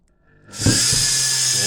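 A washing machine motor, wired to a drill trigger switch, spins up quickly from near silence to a loud, steady high-pitched whir that holds at full speed with a hissing edge.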